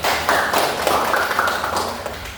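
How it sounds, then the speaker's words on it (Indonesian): Classroom applause as a group of students claps for a presenter during a teaching-practice lesson, a dense, steady patter of many hands lasting a couple of seconds without speech. "Tepuk tangan dulu untuk Kak Julia."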